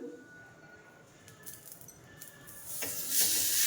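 Soft hiss that swells into a louder, bright sizzle near the end as methi thalipeeth dough meets a hot oiled griddle.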